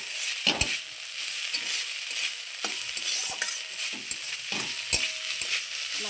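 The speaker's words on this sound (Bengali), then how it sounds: "আমার থোরটা ভাজা হয়ে গেছে খুব সুন্দর করে" Chopped raw banana stem fries in oil with green chilli, kalo jeera, salt and turmeric in a kadai, giving a constant sizzle while a spatula scrapes and knocks against the pan in irregular strokes.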